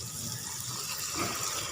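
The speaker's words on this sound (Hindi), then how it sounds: "अब इसके अंदर थोड़ा पानी ऐड कर दें" Water splashes and hisses steadily into a hot pan of frying masala for pulao, a continuous sizzling gush with no talking.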